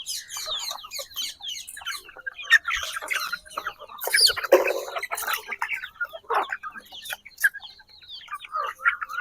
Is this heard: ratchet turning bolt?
no